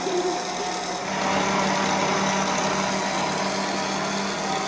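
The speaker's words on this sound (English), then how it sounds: "that's just going to sit there and whisk until we get, actually it doesn't take very long, until it's nice and fluffy" An electric whisk beats a strawberry cheesecake mixture until fluffy, giving a steady, continuous motor whine that swells slightly after the first second and holds at a constant, fairly loud level with no talking.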